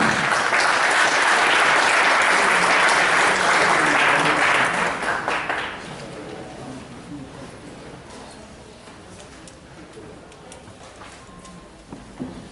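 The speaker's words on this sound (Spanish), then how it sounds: "es un gratísimo honor recibir con fuertes aplausos a nuestro ponente, el doctor Boris Espesúa Salmón" A lecture audience applauds to welcome the speaker, Dr. Boris Espezúa, at an academic talk on Churata. The clapping is loud and dense for about five seconds, then fades into a quiet room with scattered small noises.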